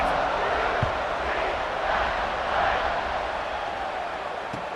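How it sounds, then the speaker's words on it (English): A stadium crowd in the College Football 26 video game, during a Rutgers vs UCF matchup, holds a steady, broad cheering roar at moderate volume, with a couple of faint thumps. "this crowd is feeling themselves after that last drive"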